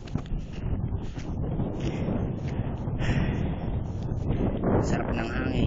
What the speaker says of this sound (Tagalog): Sarap ng hangin, presko.